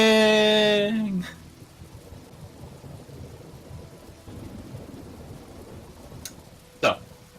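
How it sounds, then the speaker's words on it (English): Rain and thunder from a video game: a harmonic tone fades in the first second, then steady rain hiss fills the clip, with a sharp close thunder crack near the end. "Can we skip the rain, please?"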